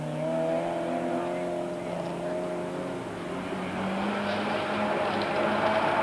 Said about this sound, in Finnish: Numero 32, Raimo Lindén, Juha Tuominen, Ford Escort RS 2000.